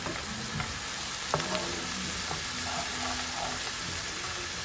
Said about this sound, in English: Also going to add in 1 green chili chopped up, and I'm going to cook this until golden